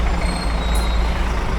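A bus pulls in at a border checkpoint in Cambodia, a steady loud engine rumble with a short hiss of air brakes, heard close with no talking.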